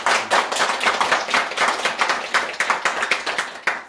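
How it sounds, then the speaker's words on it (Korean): An audience at a Buddha's Birthday temple ceremony gives a round of thankful applause: brisk, close, uneven clapping from a modest group, steady throughout without any talk. "그래서 감사의 박수를 한번."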